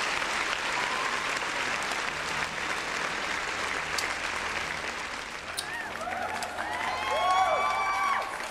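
Crowd applause in the Stellar Blade video game, heard in a library with a piano: sustained clapping at moderate volume, ending with brighter whoops and cheers near the end.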